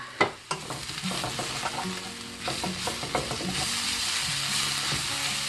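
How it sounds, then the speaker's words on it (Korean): King oyster mushrooms are tipped into a pan of already-frying taro stems and stir-fried, giving a steady close sizzle with repeated scraping and clattering stirring strokes throughout. "이때 도삭했는 새송이를 지금 넣겠습니다. 그래서 볶겠습니다."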